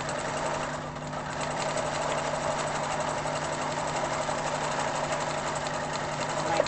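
An Atlantis sewing machine runs continuously while sewing a zigzag stitch, a fast steady mechanical whir with a faint rapid ticking rhythm, moderately quiet, with no talk.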